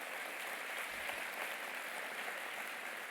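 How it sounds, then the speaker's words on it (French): Steady applause from an audience at a town New Year's greetings ceremony in Herblay, a dense, even wash of many hands clapping that holds at constant loudness for a few seconds with no voices over it. "on peut les applaudir également. Bravo."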